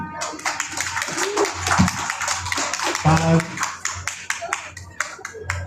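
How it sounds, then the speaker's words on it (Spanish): Audience applause at a Mother Languages festival event, a dense patter of many hands clapping steadily for several seconds, with voices and brief talk mixed in beneath. "Un aplauso, por favor."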